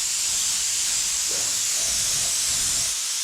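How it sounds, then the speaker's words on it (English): A cheap throwaway primer spray gun sprays a kandy paint mix loaded with metal flakes, giving a steady loud hiss of air and atomized paint that runs unbroken throughout. "spray some metal flakes"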